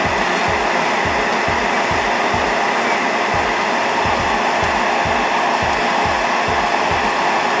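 An electric nail drill running at 10,000 RPM grinds off a press-on nail with a loud, continuous high whir and a steady pulsing low throb underneath, close up and uninterrupted.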